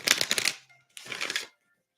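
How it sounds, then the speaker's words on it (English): Tarot cards being shuffled by hand in two bursts of quick, dense riffling, each around half a second long, with a short quiet gap between them. "So I always shuffle the cards first"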